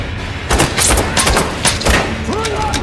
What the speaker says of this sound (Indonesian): menembaki psikopat merah itu dengan tembakan paku